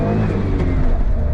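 A stock Autozam AZ1's engine revs close behind the driver, a steady buzzing drone heard from inside the small car.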